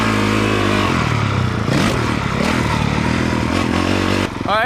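A motocross motorcycle roars loudly and close as it takes a jump, the engine revving through the takeoff and landing before the sound cuts off abruptly.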